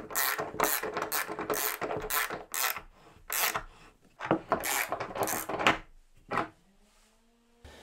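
A workbench holding clamp being wound in and out, giving a close, dry run of rapid ratcheting clicks in uneven bursts with short pauses, then one final click before quiet.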